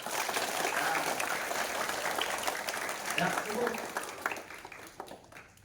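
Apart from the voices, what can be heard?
applause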